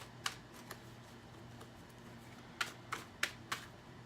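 Tarot cards being cut by hand give a few soft, crisp snaps, with a single click early on and a quick cluster of four near the end, all faint in a quiet room.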